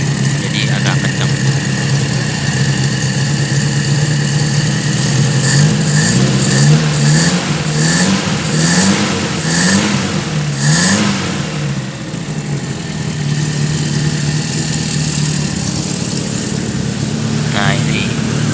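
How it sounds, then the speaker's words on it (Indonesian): A 1980 Toyota Kijang KF-10 with a racing exhaust runs loud and close, its engine revving in a few rising bursts before settling back to a steady idle, with a voice talking over it. "Untuk mesinnya ini masih halus ya, cuman knalpotnya aja udah racing, jadi agak kencang."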